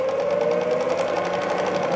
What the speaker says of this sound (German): wir nähen ohne Probleme weiter unsere eingefärbte oder perforierte Linie lang